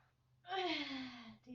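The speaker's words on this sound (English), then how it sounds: "Yes, you deserve to take some deep breaths." During an upper body, core and cardio workout, a single deep breath is drawn in and released, close and fairly soft, as a voiced sigh-like exhale lasting about a second.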